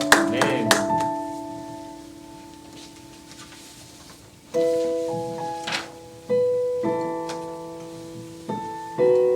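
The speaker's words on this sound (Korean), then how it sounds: "함께 영광의 박수 올려드리십시다" Hands clapping in a church service, a few sharp claps near the start, then rhythmic bursts of applause mixed with sustained organ or keyboard chords, loud and close.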